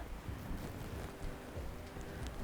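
Water runs down off a mountainside outdoors as a steady, broad rushing wash with light wind buffeting, continuous and fairly near with no talk.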